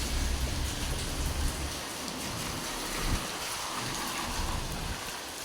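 Steady rain pours down in a lane in Soi Khao Talo, a dense broadband hiss of drops on surfaces with low rumbling gusts near the start, constant and close throughout with no voices.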